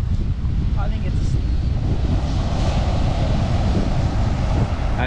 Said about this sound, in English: That wind's really charged in a bit.